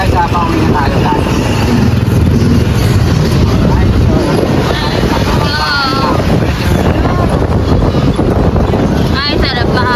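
Steady, loud wind rushing and buffeting across the microphone during a motorcycle ride, with engine rumble underneath and brief bits of voice.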